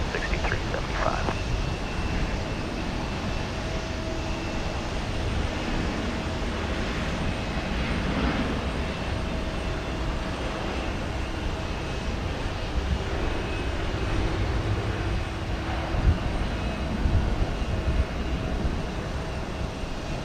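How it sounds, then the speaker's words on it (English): A heavy Air France Airbus A350 jet departs for Paris with a steady, broad engine roar that holds throughout, while radio talk from air traffic control and pilots runs over it. "here goes the Air France big jet to Paris"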